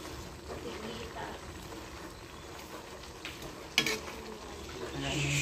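Food sizzles and stirs in a pan as it is sautéed, a soft, continuous frying hiss with a brief clatter near the middle, heard close by in a home kitchen.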